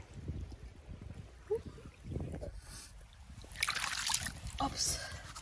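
Cold creek water splashes and trickles in bursts as boots are washed in it, with intermittent sloshing and a sharper rush of splashing near the end, close by under occasional talk.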